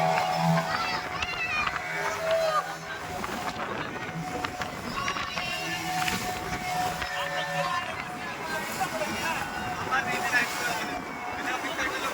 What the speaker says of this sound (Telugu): సముద్రపు అలలు మన బోటుకు ఎదురెత్తున్నాయి